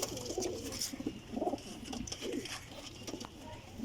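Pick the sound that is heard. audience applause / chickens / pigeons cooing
pigeons cooing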